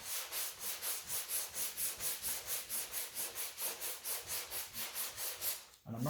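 A sanding block loaded with 120 grit sandpaper is rubbed over a car hood in steady rhythmic back-and-forth strokes, about four per second, close and fairly quiet with no talk.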